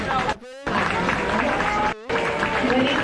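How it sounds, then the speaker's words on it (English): An audience at a 4-H and FFA beef show at a county fair gives the kids a round of applause, a dense wash of clapping that runs throughout with brief dropouts. "if you would give all those kids a big round of applause"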